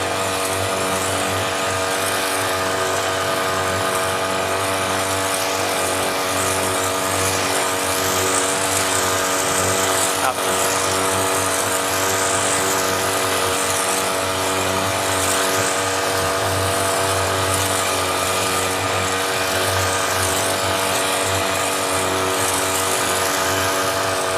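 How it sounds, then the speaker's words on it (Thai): A motorized sprayer misting foliar fertilizer onto three-year-old durian leaves runs in a loud, steady engine drone with a constant high hiss of spray, unbroken throughout. "พ่นใส่ใบครับ ผิว ๆ ไปครับ ไม่ต้องให้เปียก เป็นละอองครับ"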